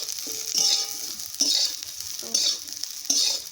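Food sizzles and fries in a home pan during Janmashtami cooking, with bursts of stirring scrapes recurring roughly every second over a steady close hiss.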